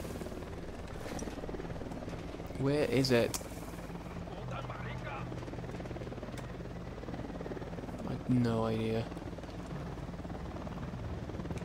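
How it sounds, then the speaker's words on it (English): Helicopter flying nearby in Ghost Recon Wildlands, a low steady rotor drone running under two players talking, with bursts of louder game noise in between. "That sounds really close again, that chopper."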